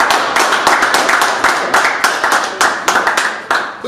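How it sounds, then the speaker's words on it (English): A small room audience applauding at a comedy show, close, fairly loud rhythmic clapping from a modest crowd, steady for several seconds with no talk over it. "I would like to just give everybody that's in the room a round of applause"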